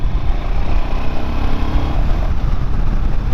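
A 2021 Royal Enfield Himalayan motorcycle cruises along, its engine a steady loud low-pitched drone mixed with wind and road noise, constant throughout with no speech.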